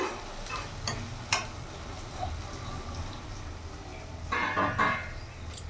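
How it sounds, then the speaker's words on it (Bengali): Masala frying in a pan over a medium gas flame for Hyderabadi green chicken, with a steady low sizzle, occasional scraping stirs and a few louder clinks of the spoon, close and continuous. "মিডিয়াম আঁচে ভালো করে কষিয়ে নেব"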